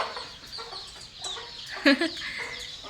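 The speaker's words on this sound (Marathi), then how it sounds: "तर कोंबड्या बघा कशा वरती जाऊन बसल्या" Soft clucking from chickens in an enclosed space, with a brief louder squawk partway through over a steady low background hum.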